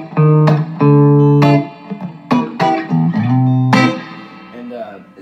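A vintage 1960s Audio Guild amplifier with its spring reverb turned all the way up: loud, close guitar notes and chords ring out, each leaving a long, washy reverb tail that carries across the pauses between strums.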